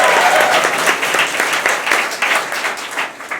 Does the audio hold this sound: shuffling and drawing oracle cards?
no